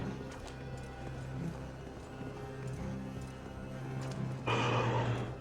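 A horse gallops in Assassin's Creed Valhalla, its hooves a steady rapid clip-clop under a low game drone, growing louder with a rushing surge near the end.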